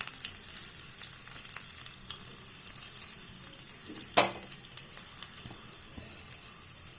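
Onion, garlic and pepper frying in a pan while being mixed, a steady soft sizzle with faint scraping throughout and one brief sharp clink near the middle, no voices.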